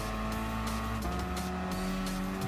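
A Ferrari 458 Italia Gr.4 race car in Gran Turismo Sport holds a steady, loud engine drone with a gear shift about a second in and a brief tire squeal toward the end, without speech.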